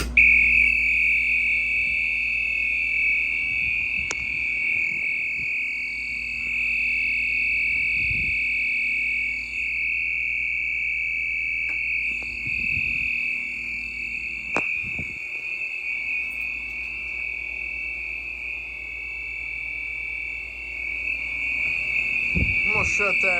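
A school fire alarm system sounds in a middle school after a pull station is pulled, giving a loud, steady, piercing electronic tone that runs without a break, with a few faint knocks and clicks underneath.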